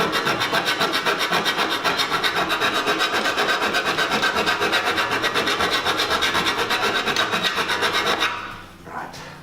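A metal file rasps back and forth across a cut in 4 mm cable tray, giving a fast, even rhythm of close, loud scraping strokes that stops abruptly near the end, followed by a brief clatter.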